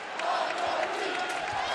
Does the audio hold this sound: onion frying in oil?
no